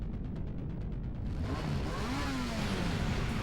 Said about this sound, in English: I hear the sound of an engine revving and spinning around to see the bike